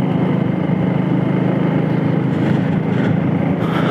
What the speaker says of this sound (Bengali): আর মাঝে মাঝে বাইকের পিস্টন থেকে ভালো নয়েজ হয়